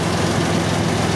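A rebuilt 1997 Ford Ranger engine idles after a couple of revs, settling into a steady, loud, low rumble with an even pulsing beat and no knock, close up with no talking.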